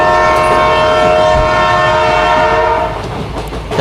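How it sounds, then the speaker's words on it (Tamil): A toy mini bullet train sounds a loud, sustained horn that blares steadily for a few seconds over a rolling rumble, then cuts off as the running noise continues. "இப்போ ஒரு ஹாரன் அடிக்கிறோம் பாருங்கள்"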